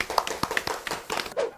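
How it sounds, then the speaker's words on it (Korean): A few scattered hand claps from a small group at a Majang-dong butcher shop during a Korean hanwoo beef tasting, sharp and uneven, close and fairly faint. "여러분들 저 박수 한번 주시고"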